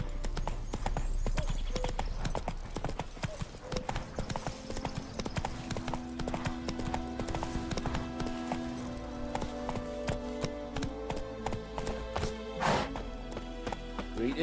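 Horse hooves clip-clop steadily at a run in The Witcher 3, a continuous near rhythmic pounding with game music and ambience underneath.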